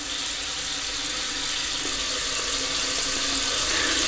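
Tap water running steadily from a faucet into a sink while warming water for wet shaving with a brush, a continuous close hiss and splash that holds evenly throughout with no voices.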